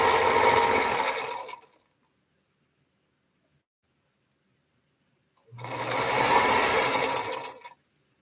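A sewing machine stitches a quilt late at night in two loud, steady bursts of close-up whirring, each lasting a couple of seconds, separated by a long silent pause.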